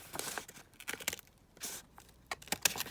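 Scissors or paper being cut while trimming the edge of a paper collage page, several short crisp snips and rustles in quick, uneven bursts, close and fairly quiet.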